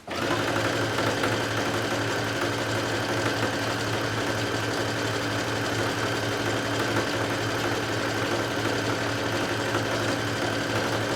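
A sewing machine runs steadily while stitching elastic onto a swim top, a close, even, continuous whir with no talking.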